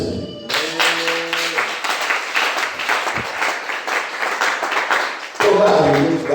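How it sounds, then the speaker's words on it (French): A church congregation bursts into sustained applause, a dense, loud wash of many hands clapping at once, with voices and a short tonal sound at the start and again near the end. "Acclamons le Seigneur."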